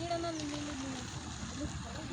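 Rainwater running across primary school grounds, a soft splashing trickle under nearby voices talking throughout.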